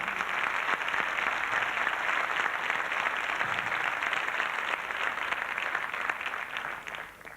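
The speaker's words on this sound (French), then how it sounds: "je voudrais qu'on l'applaudisse, Nathalie" Audience at a Miss France 1993 broadcast applauding a jury member as she is introduced, a soft, even wash of clapping that holds steady and tapers at the end.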